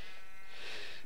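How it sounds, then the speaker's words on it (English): A pet dog whines in a room, giving a thin, high, nasal cry that swells and wavers for about a second, close by and fairly quiet, with no talking over it. "if you hear me dog whining in the background"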